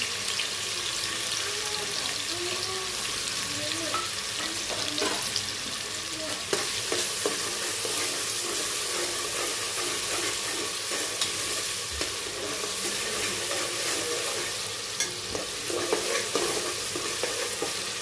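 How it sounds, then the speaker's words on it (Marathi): Onion, ginger and garlic frying in hot oil in a pot for mutton paya, a loud continuous sizzle with stirring scrapes, close and steady throughout with no talk. "आता तेल तापलं त्याच्यामध्ये मी हे कांदा आले लसूण सगळं टाकून देते"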